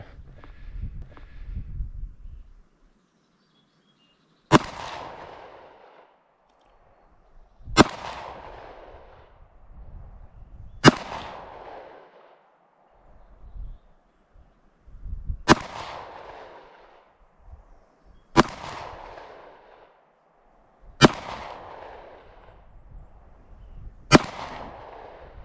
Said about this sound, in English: I'm gonna try the Hellcat now, and we're gonna shoot it at the right target.